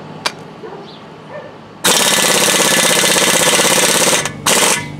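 An air impact wrench hammers loudly at brake rotor nuts on a Workhorse W22, one long rattling burst of about two and a half seconds after a quiet lead-in, then a brief second burst.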